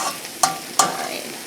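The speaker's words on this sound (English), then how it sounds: "back to the vegetables that are sauteing. Move those around a bit." Vegetables sautéing in a pan with leftover Spam dishes nearby, stirred around: a steady sizzle with two quick scraping stirs close by, no voices.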